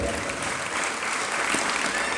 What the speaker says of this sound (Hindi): ताली किस बात पर बजाई?